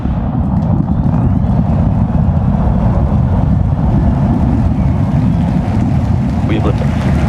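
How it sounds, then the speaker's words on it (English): Rocket engines roar at liftoff of Flight 10, a loud, continuous broadband rumble that holds steady throughout with a dense, crackling low end. "We have liftoff."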